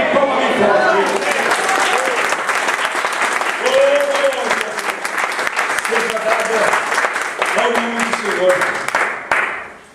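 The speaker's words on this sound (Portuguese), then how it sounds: "Quem crê nisso, dê um amém para Jesus e uma salva de palmas bem forte." Church congregation in Sobral, Portugal, applauding loudly and steadily as a crowd, dense clapping sustained throughout with voices mixed in under it before tapering off at the end.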